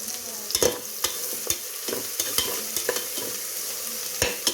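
Ginger garlic paste sizzles in hot oil for an egg biryani while a spoon scrapes and clacks against the pan in irregular strokes, with a steady frying hiss underneath and no talking.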